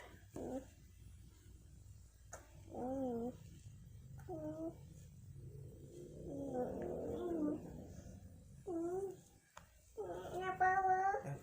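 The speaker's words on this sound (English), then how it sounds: "you can hear the kiddo in the background." A voice rises several times in the background with whines and high sing-song calls, interrupting a quieter, steady room tone and sounding somewhat distant throughout.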